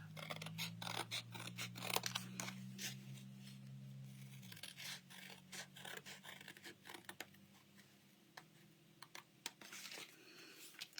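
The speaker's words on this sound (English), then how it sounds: "I'm going to just take some scissors and I'm going to trim this off." Scissors snip through paper in a quick series of sharp cuts, with a low hum fading out in the background.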